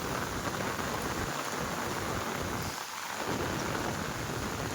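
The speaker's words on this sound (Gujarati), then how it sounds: "બરાબર વરસાદ આજનો મહુવાની અંદર ખૂબ જ ભારે પડેલો છે ને ખતરનાક વરસાદ છે" Heavy rain pours steadily in Mahuva during a flood-day downpour beside the overflowing Malan river, a dense, even hiss with a low rumble underneath and a brief dip partway through.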